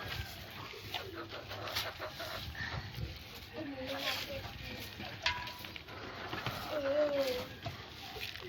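Backyard chickens cluck softly and intermittently amid outdoor clatter, while someone talks over them throughout, the birds staying fairly faint under her voice.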